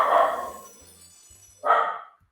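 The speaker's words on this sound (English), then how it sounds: "I don't know what she's barking at, but she's gonna keep barking until she finally decides to stop." A female dog barks twice, each a short sharp bark separated by a pause of over a second, fairly close and loud with quiet between.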